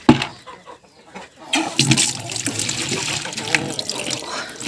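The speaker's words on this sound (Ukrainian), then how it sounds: "яка водичка тепла йде поверху в трубі" Warm water gushing through a pipe in a farmyard, a steady rushing splash that starts abruptly after a quieter opening and continues loud and close, with faint poultry in the background.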